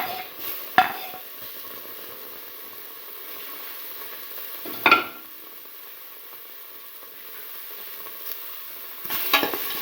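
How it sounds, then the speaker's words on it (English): Tomato pieces hit a hot pan, each adding a sharp sizzle. There are three bursts spaced a few seconds apart, and a quieter frying hiss carries on between them. "now put in the tomato pieces"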